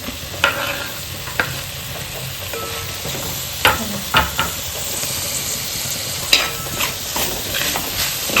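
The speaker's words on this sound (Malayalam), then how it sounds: "നമുക്കിതിലേക്ക് കുറച്ച് തക്കാളിയും കൂടി ഇട്ട് കൊടുക്കാം" Tomatoes go into sizzling egg biryani masala in a pan, with steady frying hiss broken by several sharp scrapes and clinks of a spoon stirring against the pan.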